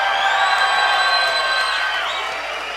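A fight crowd cheers and whoops around a boxing ring, a bright, sustained roar of voices with high shrill yells riding on top and fading slightly toward the end.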